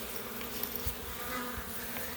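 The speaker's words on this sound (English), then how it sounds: "And I have bees walking around my arm." Freshly hatched bees in a house tent hum in a steady, faint, close buzzing drone, with soft low bumps and no talking.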